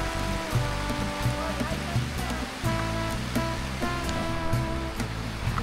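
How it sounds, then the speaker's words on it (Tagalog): Steady rain pouring at a campsite in Cavinti, Laguna, a dense close hiss with louder drips and patters over it, while a person talks throughout. "So, camping habang umuulan."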